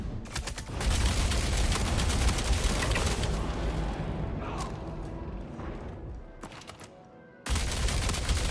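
Dense sustained gunfire from Star Citizen, a loud continuous fusillade of rapid shots with a brief quieter dip near the end before the firing surges back in at full force.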